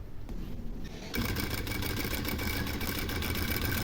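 A sewing machine stitches the hem of a half-circle flared skirt with an elastic waist. The motor starts after a quiet moment, then runs loud and steady with a fast, even whir.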